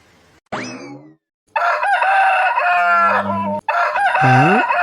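A rooster crows loudly and close by, with several drawn-out cock-a-doodle-doo calls in a row and short pauses between them.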